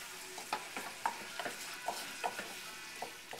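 Flour being stirred into browned meat in a gas-heated frying pan for biscuits and gravy, a spoon scraping in quick rhythmic strokes over a steady soft sizzle, close and moderately loud with no talking.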